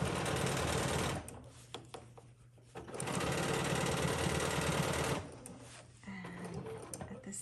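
A sewing machine stitching an arc flower quilting motif runs in two long steady whirring bursts, a brief pause and quieter handling between them, then a third shorter run near the end.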